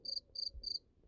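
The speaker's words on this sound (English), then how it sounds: "Grasshopper." Grasshopper chirping: three short, evenly spaced high buzzy chirps, faint and close, over a quiet low background hum.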